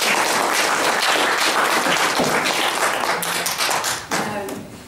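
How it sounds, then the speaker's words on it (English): An audience applauds at a talk about reef conservation, dense clapping that carries on and gradually thins toward the end. "I think we should give a round of applause to that victory so long ago."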